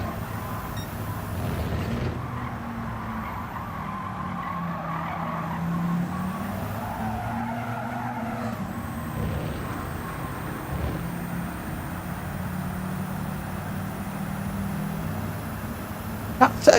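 A race car engine in Gran Turismo 7 drones steadily throughout a race, with a continuous mechanical roar, gear changes and occasional tire noise, without pause.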